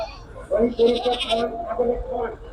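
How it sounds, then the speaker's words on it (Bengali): Goats tied up at a crowded goat market bleat close by, several wavering calls in quick succession over someone talking nearby. "দেখেন এক নজরে আমার পাশেই ছাগলগুলো বাধা রয়েছে দেখেন"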